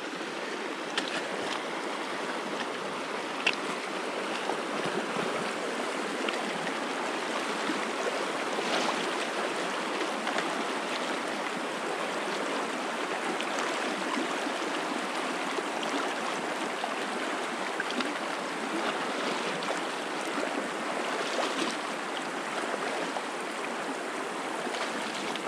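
River water flowing beside a hiking trail along the Little East Fork of Blacks Fork, a steady broadband rush with no letup, continuous and fairly close, with no voices over it.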